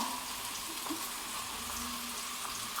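Cumin, green chili and onion paste sizzling in a frying pan, a steady, close, crackling hiss with no talk.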